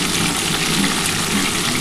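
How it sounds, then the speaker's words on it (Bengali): Cauliflower pieces frying in hot oil with salt and turmeric, giving a steady, dense sizzle that fills the whole short stretch without a break; no voices. "আগে ফুলকপিটা আমি ভেজে দিচ্ছি"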